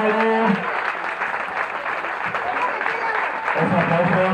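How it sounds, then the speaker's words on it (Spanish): A crowd at a king and queen coronation gala in Albelda de Iregua applauds the newly crowned pair, with steady, loud, continuous clapping throughout and a voice speaking over it at the start and end. "ese aplauso fuerte para los nuevos"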